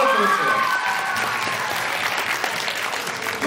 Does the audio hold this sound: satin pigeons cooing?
no